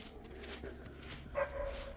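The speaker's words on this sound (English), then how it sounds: "Oh, another bark down there as well." A spaniel outdoors in the snow gives a short, fairly faint bark, with a sharper yip-like bark near the middle, over quiet background hiss.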